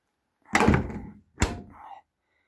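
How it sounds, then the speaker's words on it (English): A car door on a Peugeot 504 diesel swings shut with a solid close, followed by a second sharper thunk, both loud and near, with quiet surroundings between. "Close the door."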